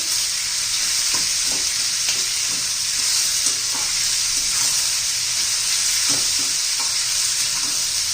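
Onion and moong dal sautéing in a pan, a continuous close sizzle broken by repeated soft scraping stirs at a fairly regular pace, with no voices.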